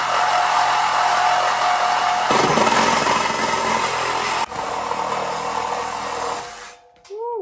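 A power saw cuts through the exhaust pipe of a Toyota Tundra TRD Pro during a muffler swap, a loud, continuous high-pitched grinding whine that changes tone partway as the blade bites deeper, then cuts off abruptly.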